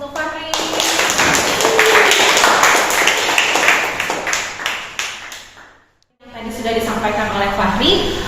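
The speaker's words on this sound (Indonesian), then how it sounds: "Oke, boleh beri aplaus untuk Fahri." Students clapping for a classmate in a classroom, steady close applause of many hands lasting several seconds, fading to a short pause before a voice begins speaking.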